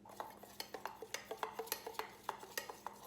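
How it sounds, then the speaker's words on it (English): A spoon clinks rapidly and rhythmically against a small bowl while stirring a thin glaze of powdered sugar and a half tablespoon of milk, producing close, bright taps at a steady quick pace with no talking. "And we're gonna stir that up."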